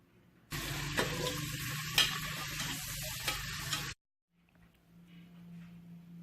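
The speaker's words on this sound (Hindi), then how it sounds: "गोश्त को थोड़ा सा फ्राई करेंगे" Chicken pieces frying in a pan for Kabuli pulao: a loud, dense sizzle with a few sharp stirring clicks, lasting about three and a half seconds before cutting off to near silence and a faint low hum.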